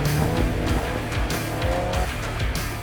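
A 4WD vehicle grinding along a bumpy sand track on the Frenchman's Track in Cape York, its engine loud and close and straining in surges, with tyres scrabbling for grip.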